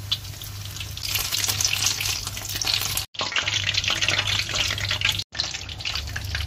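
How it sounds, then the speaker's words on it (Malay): Battered shrimp deep-frying in hot oil in a wok, a loud continuous sizzle and crackle with a low steady hum underneath and two brief dropouts. "Okay, kita goreng sikit-sikit dulu"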